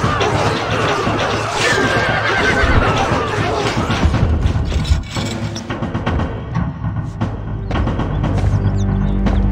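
Horses neighing in the Stronghold Crusader strategy game, a loud whinny rising out of busy battle noise, with further neighs and snorts amid clatter and game sound effects.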